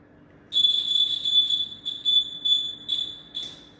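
Homemade alarm in a shaken box sounds a shrill, piercing electronic beep, a sustained tone that breaks into several short repeated bursts, loud and close with no talking.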